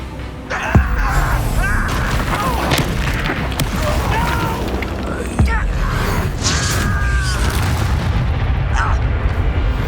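The Incendio fire spell going off in the Hogwarts Legacy video game. A whooshing, booming burst of flame comes with creaking mechanical effects and a couple of sharp impacts, and voices are heard over a steady din.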